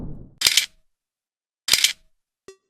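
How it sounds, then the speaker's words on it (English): A mechanical camera shutter click, AI-generated as a sound effect: two crisp, bright snaps about a second apart, followed by a small faint tick, each isolated against silence. "mechanical camera shutter click sound"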